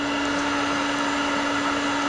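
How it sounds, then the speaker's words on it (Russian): A handheld hair dryer runs at a steady, loud whir with a constant tone throughout, used while fitting a Yupiteru remote engine starter in a Honda N-WGN Custom. "Сейчас я включу фен."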